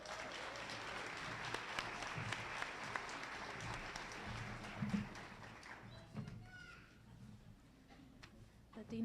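Sustained audience applause and cheering filling a hall at a community college nursing pinning ceremony, dense and steady before thinning out into scattered claps and a few voices.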